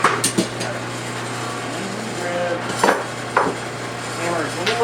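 A hammer strikes hot metal at a forge in a few sharp, widely spaced blows, close and fairly loud, over a steady low hum of the shop.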